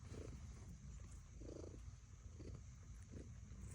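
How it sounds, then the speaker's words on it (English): Cat purring close up, a soft low rumble rising and falling in regular breaths, faint and continuous with no voices over it. "Listen to the purr."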